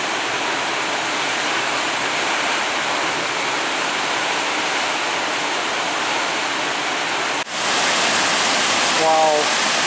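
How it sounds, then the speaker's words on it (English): A waterfall roars steadily as a dense, continuous rush of water, loud and close, with a brief interruption near the end. "Wow, this waterfall is amazing."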